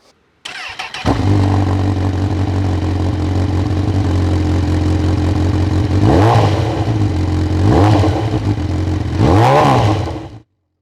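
A Honda CB1000R motorcycle with an aftermarket exhaust starts and idles with a deep, bassy exhaust rumble, then revs three times in quick rising surges before cutting off.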